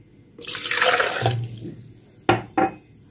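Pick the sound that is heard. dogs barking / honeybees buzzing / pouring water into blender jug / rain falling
pouring water into blender jug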